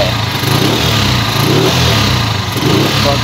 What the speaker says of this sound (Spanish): La moto funciona bien, Vamos a seguir acelerando